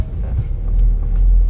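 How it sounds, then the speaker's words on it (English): A car idles and rumbles close by as it is backed up to make room for loading belongings into another car, a steady low engine drone throughout. "We had to move Kuya Aldin's car backwards so we could load some stuff into Kuya Alex's car."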